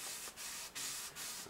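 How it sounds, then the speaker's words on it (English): Sandpaper rubs across the grain of a wooden guitar neck in four quick, even strokes, a soft, raspy scratching close to the microphone. "I'm going to be sanding across the grain"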